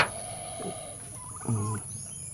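Quiet turkey gobbles, a short warbling call early and a louder rapid gobble later, over a faint steady background hum.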